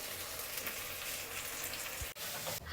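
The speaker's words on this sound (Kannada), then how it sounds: "ಫ್ರೈ ಆಗ್ತಾ ಇದೆ ನೀಟಾಗಿ." Tomatoes fry in a pan for chicken biryani, giving a steady, dense sizzle throughout with a short dull knock near the end.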